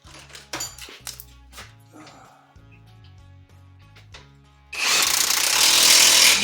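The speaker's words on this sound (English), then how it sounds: "Here I'm tightening up the upper track bar bolt." Power tool tightening the upper track bar bolt on a 2016 Jeep Wrangler JKU Rubicon during a front suspension install: scattered metallic clanks and taps, then a loud sustained burst of whirring and rattling at the end.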